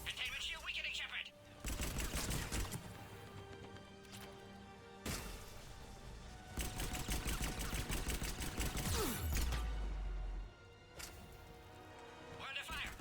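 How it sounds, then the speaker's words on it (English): Dense gunfire from a Mass Effect 3 battle at Insanity difficulty, bursts of rapid shots crashing over a steady combat din, with radio-style voices talking between volleys and a heavy impact near the end. "We're under fire"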